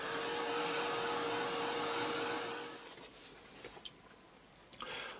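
A hair dryer blows steadily at close range over acrylic paint on a textured steampunk grunge background, a loud continuous whoosh that cuts off after about two and a half seconds, leaving faint rustles and small handling knocks.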